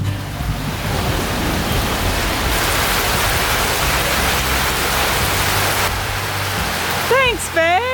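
Heavy rain pours in Sri Lanka, a dense steady roar heard from under a covered shelter, loud and close throughout, with a brief burst of whistled or squeaky sound near the end.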